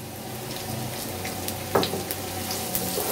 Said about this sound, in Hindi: वो डालकर इसमें एक दरमियाने साइज़ का प्याज जो है उसको आमलेट वाला कट करके ये मैंने डाल दिया।